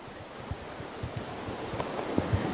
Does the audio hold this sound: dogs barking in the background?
no